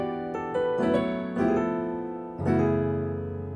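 Piano plays a gospel passing chord figure in a higher register, a few separate chord strikes over three and a half seconds, the last one held and decaying, close and solo with no voice.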